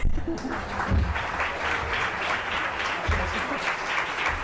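Audience applause at the closing of a UOC international research symposium, greeting named researchers; steady clapping from a hall audience throughout, with a few voices mixed in.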